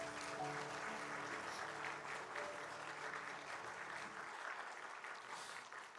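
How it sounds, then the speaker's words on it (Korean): Church congregation clapping after a Korean Sunday worship service, a faint, steady patter of many hands with soft sustained tones underneath that drop away near the end. "하나님께 영광 박수 올려드리겠습니다."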